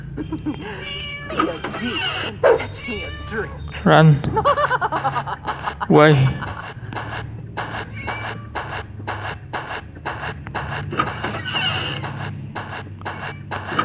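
A cat in the video game Scary Teacher 3D meows repeatedly, several distinct drawn-out meows rising and falling, amid rhythmic game music and scraping effects, with a person talking over it at times.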